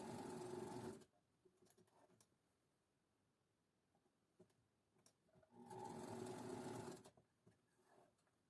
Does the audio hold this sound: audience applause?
no